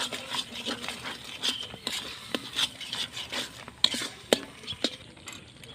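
Spice paste with turmeric, salt and a little water is stirred and fried in a pan, giving a steady run of close scraping and tapping strokes over a low sizzle, with no talk.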